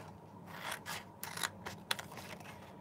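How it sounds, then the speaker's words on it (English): Scissors cutting along scored sheet paper, a few quiet close snips and crisp rasping slices spaced unevenly, with no talking. "take your scissors, it's kind of hard to see where you've scored it, and then cut up to the 2-inch mark"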